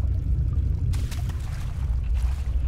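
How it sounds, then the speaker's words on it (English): Water splashes and sloshes in Amnesia: No Escape, a low rumbling wash with faint pouring splashes over a deep droning ambience, no talk. "there's a lot of splashing going on around here"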